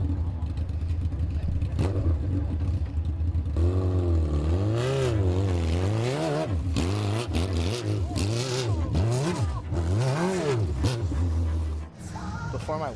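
A Monster Chopper motorcycle with its engine mounted at the back runs loud and close, revving repeatedly in rising and falling sweeps for several seconds, then dropping off sharply near the end.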